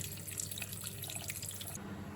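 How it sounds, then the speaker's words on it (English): Cold tap water runs steadily over leeks in a kitchen sink, a quiet continuous splashing stream with no voices over it. "I'm just going to give these a really good rinse under this cold water"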